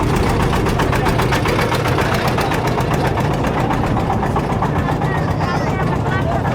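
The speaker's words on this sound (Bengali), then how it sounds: "নৌকাটি এখন ছেড়ে দিল।" A motorboat on the Padma river runs its engine as it pulls away on a winter morning, a loud, steady, close mechanical drone with rapid regular pulsing throughout and no pause.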